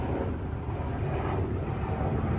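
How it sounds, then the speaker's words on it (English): A low-flying Black Hawk military helicopter passing overhead produces a loud, steady, broadband engine roar and rumble that stays constant throughout with no talk. "Oh, it's a military helicopter. It's a Black Hawk."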